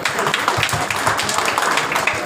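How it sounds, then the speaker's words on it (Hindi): An audience at a restaurant cooking-competition event claps steadily for about two seconds. The applause is a dense, even patter with no pauses and may have faint voices underneath. "एक बार मेरे लिए भी जोरदार तालियां बजा दो।"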